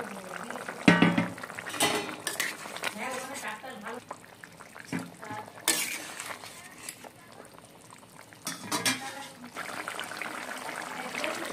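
A pot of rohu fish curry bubbles and simmers nearby, with a few soft splashes as fried fish pieces drop into the liquid; voices are heard at times.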